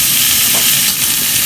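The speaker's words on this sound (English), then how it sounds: "That's a good sear." Meat searing over a fire for birria, a loud, dense, close hiss and crackle of fat that stays steady and unbroken for its short length, with no voices.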